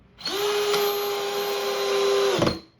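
A Ridgid 18V subcompact drill drives a 1.5 inch screw on its low speed setting. One close, steady motor whine holds for about two seconds and then stops sharply, with no talk.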